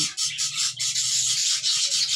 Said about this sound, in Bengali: দেখতে পাচ্ছেন কত সুন্দর খেলা করছে পাখিগুলো